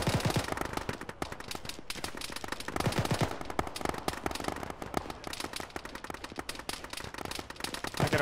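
Dense, continuous small-arms gunfire in the military game Arma during a ShackTac squad fight near a BTR in a street, with rapid overlapping shots and bursts, some near and some distant, throughout.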